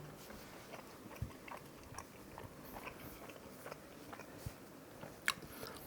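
Someone bites into and chews a fast food burger developed by a Michelin-star chef, with soft, quiet chewing and a few sharper bite clicks scattered over about six seconds, close to the mic and unaccompanied by talk.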